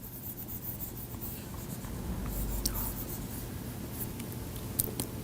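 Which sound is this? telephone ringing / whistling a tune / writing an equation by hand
writing an equation by hand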